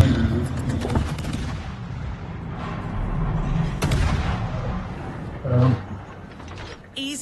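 Naval artillery from a warship video game booms through several sharp broadside shots and heavy impacts over a busy mechanical game soundscape, with a loud burst near the end.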